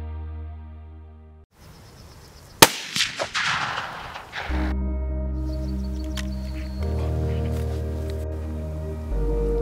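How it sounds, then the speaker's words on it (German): A single sharp hunting rifle shot at a roebuck in the Hunsrück cracks out, followed by a few scattered echoing pops, then steady background music continues. "Der Bock liegt mit sauberem Schuss im Knall."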